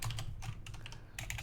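Fingers tap quickly on a computer keyboard, a close, fairly quiet cluster of crisp keystrokes with a short pause before another burst.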